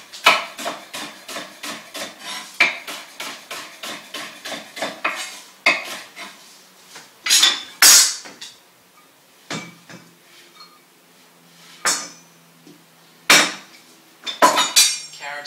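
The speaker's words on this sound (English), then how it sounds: "grab all the vegetables and just chop it up quite roughly and then throw it straight into the bowl" Vegetables for bone broth are roughly chopped with a knife on a board: rapid close thuds in a steady run, then scattered single chops and clatters with pauses.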